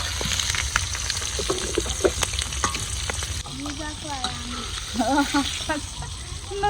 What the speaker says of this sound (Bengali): ওইদিকে নরিনে ডিম বাজতেছে